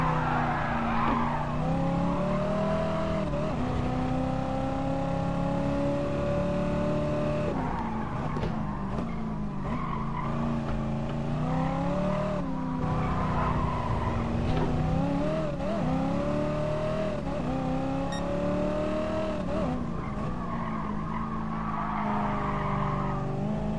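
A Dodge Challenger lapping Brands Hatch at full pace, its engine droning steadily and rising and falling through the gears, with tyres squealing through the corners across a long continuous run.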